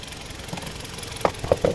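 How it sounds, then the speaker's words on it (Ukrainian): A 2012 Toyota RAV4 2.0 petrol engine with automatic transmission runs at idle with a steady low hum and rhythmic ticking knocks, heard close up and fairly loud. "Ось робота двигуна."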